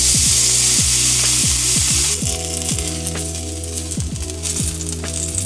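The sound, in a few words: picanha steak fat rendering and sizzling in a pan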